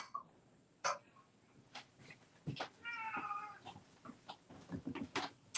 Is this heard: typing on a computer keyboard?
no